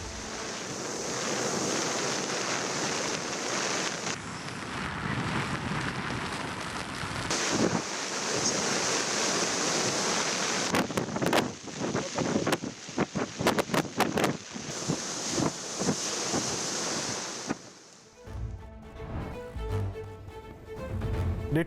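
Rough sea in the Cyclone Ditwah storm surging at Tharangambadi on the Mayiladuthurai coast, a steady loud roar of surf buffeted by strong gusting wind across the microphone, with no voices.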